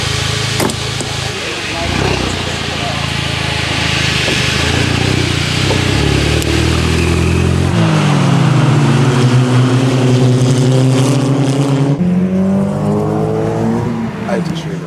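A race car pulls out onto the track for the day's only free practice session, its engine loud and close, revving up through the gears in rising sweeps as it accelerates away.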